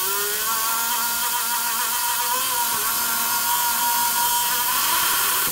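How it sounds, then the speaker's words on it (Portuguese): A power drill bores slowly into ceramic tile while a bathroom shower enclosure is being installed, making a continuous close whirring drone with a steady pitched motor whine and no talking. "Vamos furar bem devagarzinho."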